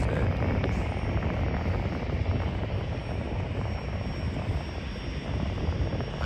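Airplanes landing one after another in a queue at San Diego airport, a continuous loud broadband engine roar holding steady for the whole stretch with no talk.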